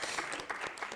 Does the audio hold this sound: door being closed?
no